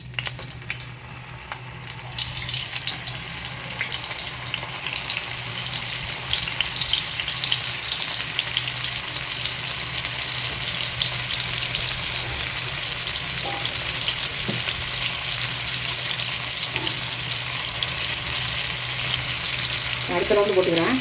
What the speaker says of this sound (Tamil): எண்ணெய் சூடாயிட்டு போடணும்.